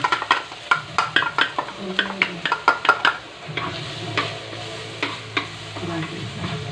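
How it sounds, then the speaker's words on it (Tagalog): Garlic tossed into hot oil to make crispy garlic for siomai: a run of sharp, regular stirring clicks against the pan, then a steady, close sizzle with occasional scraping. "mainit ang mantika, ilagay natin itong bawang"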